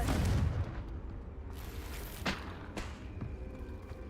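Confringo, a fire spell cast in the Hogwarts Legacy video game, lands as a muffled boom at the start, followed by several sharper cracking impacts over a low rumble, all at a moderate distance.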